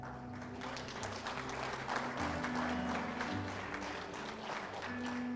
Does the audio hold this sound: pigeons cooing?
no